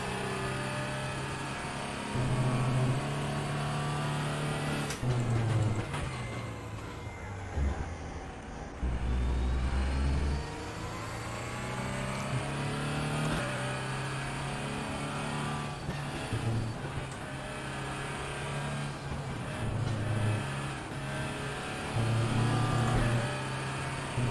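An Audi R18 prototype race car engine in RaceRoom Racing Experience at Sepang, loud and continuous, rising and falling through repeated gear changes and throttle lifts, with other cars' engines briefly passing.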